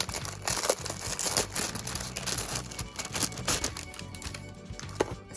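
Crinkly plastic packaging rustles and crackles as a pink Pokemon zipper pouch is unwrapped, close and continuous with a few sharper tearing bursts.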